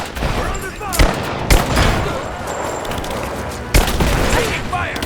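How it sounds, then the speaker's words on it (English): Bursts of gunfire in the video game Rise of the Tomb Raider, with sharp loud shots near 1, 1.5 and 3.7 seconds over a busy layer of scattered distant firing, while voices shout throughout. "We're under fire!"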